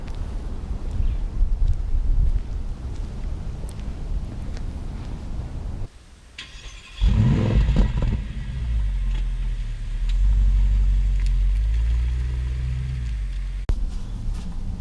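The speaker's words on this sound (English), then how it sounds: "Well, it's a Bentley Continental GT." A Bentley Continental GT3R grand tourer drives with a steady engine hum and wind rush, then surges with a loud rev at mid-drive before settling into a deeper, sustained drone.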